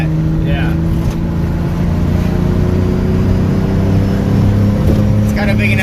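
A 2JZ-swapped Mazda RX-7 FD with a big turbo accelerates, its engine a steady, loud drone that climbs slightly in pitch as people talk inside the car.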